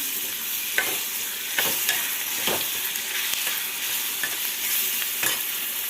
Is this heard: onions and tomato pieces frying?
yes